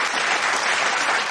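A studio audience on a TV reality show breaks into thick, continuous applause for the first-place winner, loud and unbroken from start to finish.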